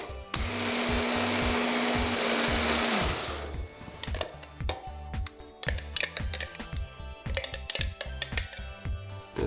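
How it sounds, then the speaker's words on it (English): A blender whirs loudly for about three seconds, blending preserved lemon pesto with dashi and olive oil, then cuts off abruptly and leaves a string of sharp clicks and knocks close by. "we're going to blend it with a little bit of dashi, olive oil"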